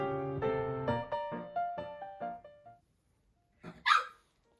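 A small run of quick, clear barks and yips from a dog, about seven in a falling sequence, then a pause and one more louder yelp close by, indoors during a hair-styling session.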